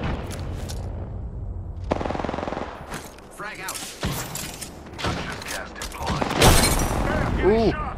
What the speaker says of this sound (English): Ooh, I hit him with a nade.